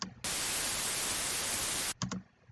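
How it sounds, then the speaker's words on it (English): Harsh, steady white noise from an FL Studio 3x OSC synth patch bursts on sharply and holds loud and uniform for nearly two seconds, then cuts off, followed by a couple of short clicks. "Yes, white noise."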